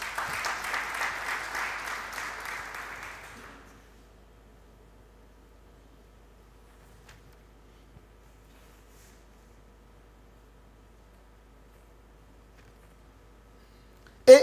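A church congregation applauds to acclaim the Lord in a short burst of close, steady clapping that fades out after a few seconds, followed by near silence and a sharp bump at the end.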